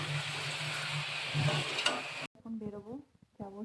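Spinach cooks in a pan with a loud, steady sizzling hiss and a faint hum underneath. Partway through the sizzle cuts off abruptly and someone speaks.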